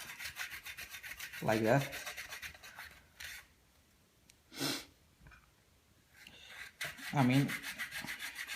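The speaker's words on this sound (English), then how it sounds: "You may have to sand, just file it a little bit" A hand file rasps against a model aircraft wing part in three short strokes spaced apart, faint and close, with a brief spoken comment in between.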